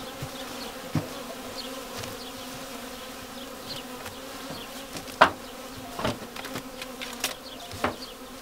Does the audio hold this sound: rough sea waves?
no